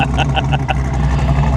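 A Monte Carlo SS V8 idles with a loud, lumpy cam chop, its deep uneven pulses rumbling close by in a short burst.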